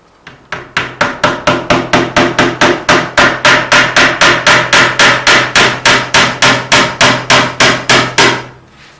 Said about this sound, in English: You nail them just almost all the way in